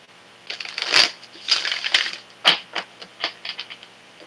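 Irregular riffle-and-tap bursts of a tarot deck being shuffled close by, soft crisp flurries coming in short clusters over quiet, no talk.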